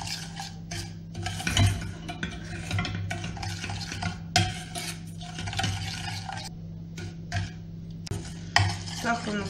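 A spoon repeatedly scrapes and stirs melting sugar in a pan on a gas stove for caramel, giving rhythmic close-up scraping strokes with a faint sizzle and occasional clinks against the pan.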